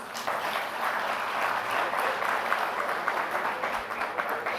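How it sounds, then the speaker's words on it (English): A conference audience gives a warm round of applause welcoming a minister at a national leadership conclave in India, a steady crowd of clapping hands that stays fairly even throughout, heard at moderate loudness with no talking. "May we welcome him with a warm round of applause."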